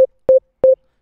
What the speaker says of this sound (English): A very tough and heavy sine wave.